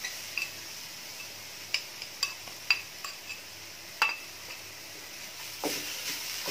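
Poppy seeds, coconut and jaggery are stirred in a pan with a metal spoon, giving faint scrapes and sharp clinks at an uneven pace over a low background sizzle.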